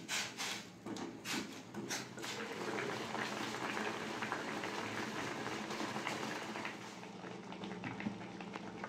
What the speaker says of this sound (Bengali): বানিয়ে আমি থোড়টা সেদ্ধ করে নেব